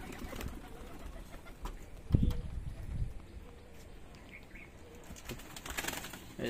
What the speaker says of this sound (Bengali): ওই পাশের পায়রাগুলোকে দিয়ে দেবো